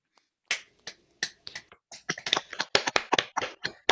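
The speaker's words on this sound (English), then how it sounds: "let's give them a round of applause" A small audience at a wildlife photography talk gives sparse applause, a handful of separate, close, crisp hand claps that start isolated and build into a quicker irregular patter.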